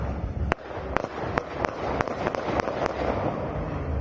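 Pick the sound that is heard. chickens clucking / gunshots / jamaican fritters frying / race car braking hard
gunshots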